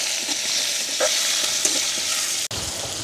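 Shallots, green chillies and curry leaves fry in a pan, giving a loud, steady sizzle with occasional stirring scrapes, heard alone with no talk.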